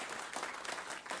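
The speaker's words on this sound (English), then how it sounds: "So let's give a round of applause for that." Brief audience applause at a regenerative agriculture celebration event, a dense patter of clapping at moderate distance with no talk over it.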